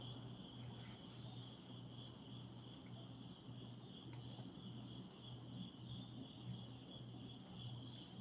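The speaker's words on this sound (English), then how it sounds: "Can y'all hear the crickets?" Faint, steady chorus of crickets chirping in a high, even trill, with low background rumble and no talking.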